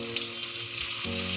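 Butter and chopped tomatoes sizzle in a pan for butter chicken, a steady, close frying hiss that holds evenly through the brief moment with no other sounds.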